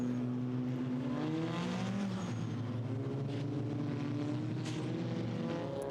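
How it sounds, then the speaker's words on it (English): SEAT Leon Eurocup race cars idling on the grid at the Nürburgring in damp conditions, a steady low engine drone with faint high turbo whistles rising and falling in the background. "You can hear the little whistles from the turbos in the background."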